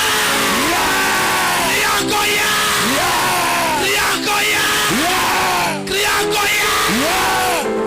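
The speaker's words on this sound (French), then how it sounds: "Allez crier ya." A church congregation at a French-language service shouts "ya" together, loud, close and repeated: several rising-and-falling collective yells about every one to one and a half seconds over a constant roar of crowd noise.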